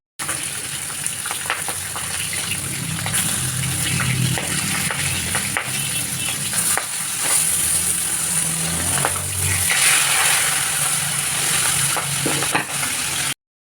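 Fish frying in hot oil gives a continuous loud crackling sizzle with occasional bubbling bursts and light clatter, close by and without talk.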